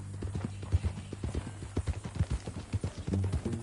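Horse hooves clip-clop steadily in Red Dead Redemption 2, a close, uneven walking rhythm of repeated thuds with a low hum beneath.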